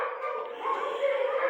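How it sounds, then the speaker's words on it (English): Several dogs howl together in long, sustained, overlapping wails that hold steady throughout at a fairly close, moderate level, with no talking. "It is the third time these guys have howled."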